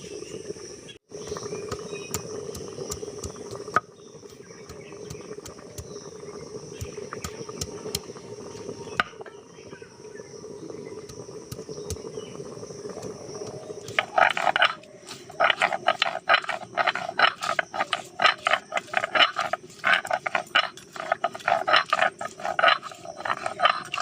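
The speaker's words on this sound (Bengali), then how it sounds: "প্রথমে বাটবো আদা রসুন।" Ginger and garlic are ground on a traditional grinding stone, starting as a faint hum with occasional knocks, then becoming a steady run of close, rhythmic scraping and rubbing strokes.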